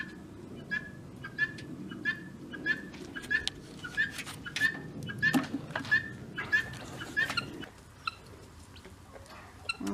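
Chickens cluck and squawk repeatedly, close and moderately loud, in a short regular series of calls with scattered rustling around them.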